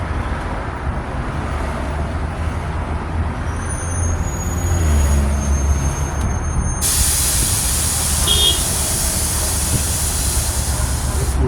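A city bus idling at a bus stop, its low engine rumble steady throughout until a loud, sustained air-brake hiss bursts out partway and keeps going to the end.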